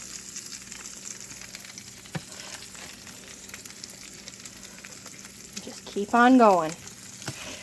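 Egg-dipped bread sizzles and crackles steadily in melted butter in a pan for French toast, a constant close frying hiss under brief speech, ending in a short burst of voice.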